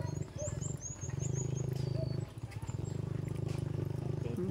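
Two horses' hooves clatter past quickly in a regular rhythm against a constant low engine-like rumble, with a person talking nearby and birds chirping faintly.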